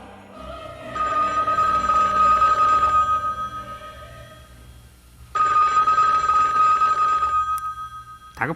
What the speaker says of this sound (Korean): 다급한 전화벨 소리에 놀란 스티브 맥퀸은 전화를 받는다